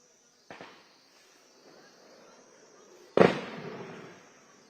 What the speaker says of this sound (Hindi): ये देखिए फायरिंग की आवाज।